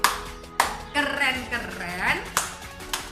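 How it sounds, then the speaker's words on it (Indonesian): A class performs the rhythmic 'tepuk kagum' clapping routine: a few sharp, separate claps spaced through a spoken passage, with a voice talking between and over them. "Yaitu bertepuk lagi. Namanya tepuk kagum."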